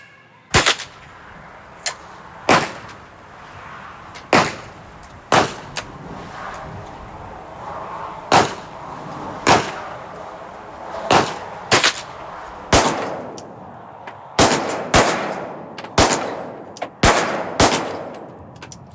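Sharp gunshots from weapons firing dirty ammunition in an urban combat zone, roughly fifteen separate loud cracks at irregular intervals over a low background rumble, with no talking.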